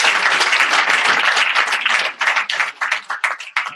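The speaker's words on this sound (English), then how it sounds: "Give him a round of applause, please." An audience at a UDP UK chapter party congress in Crawley claps loudly and densely at first, then thins into scattered, uneven claps before dying away.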